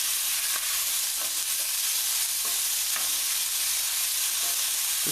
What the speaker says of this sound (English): Of course, I would keep stirring this.